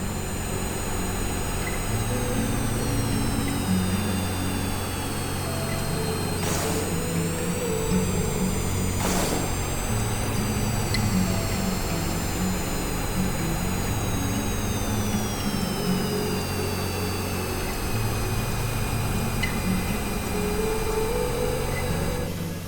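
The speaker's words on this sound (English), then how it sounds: "Both planes trying to maneuver to get a good shot." Combat planes maneuvering overhead, with a continuous engine drone and a thin, shifting high whine that holds steady throughout, no talk.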